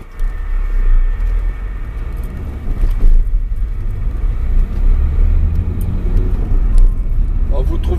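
A car driving on the road, heard from inside: a continuous low engine and road rumble throughout, with a voice talking over it.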